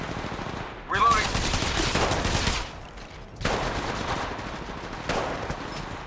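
Automatic weapon fire in the Apex Legends Mobile video game, loud rapid bursts in three separate volleys with short gaps between, a game voice calling out over the shots.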